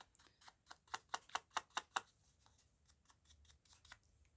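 A run of about eight crisp, quick snips from scissors cutting paper cards, close and evenly paced, then a few softer paper rustles and trims as the cutting slows.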